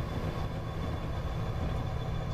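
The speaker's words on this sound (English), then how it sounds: "My frame rate crashes, and another train passes us." A freight train in Train Simulator 2015 rolls past with a continuous low rumble and steady rail noise, close and fairly loud, with no talking.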